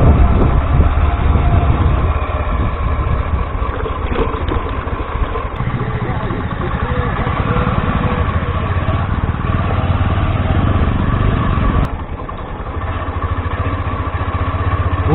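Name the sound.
125cc motorcycle riding off-road on bad road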